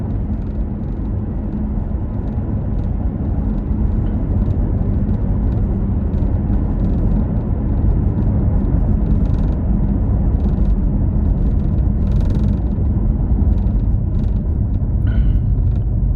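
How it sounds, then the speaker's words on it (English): A C7 Corvette Grand Sport's exhaust, a deep, steady engine rumble droning continuously and loudly, a low throaty roar with no break. "But that exhaust, I love this exhaust."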